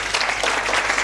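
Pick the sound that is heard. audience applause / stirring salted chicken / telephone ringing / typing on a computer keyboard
audience applause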